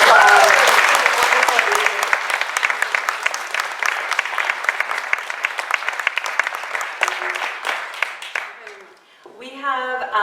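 An audience at a library author event applauds an author with dense, sustained clapping that slowly thins out, ending with a short stretch of speech.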